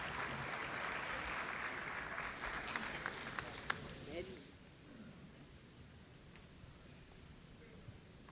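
Applause from an audience at a birth centenary function attended by the Prime Minister, welcoming Ghulam Nabi Azad: steady dense clapping for about four seconds that fades out, leaving quiet room noise with faint sounds.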